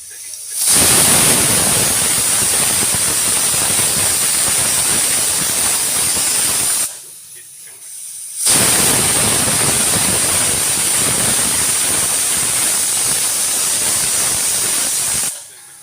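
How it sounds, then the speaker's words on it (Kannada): A kitchen pressure cooker cooking avarekaalu and potato curry lets out two long, loud whistling steam releases, each a steady hiss lasting several seconds with a short quiet gap between them. "ಎರಡು ವಿಜಲ್ ಆಗಿದೆ."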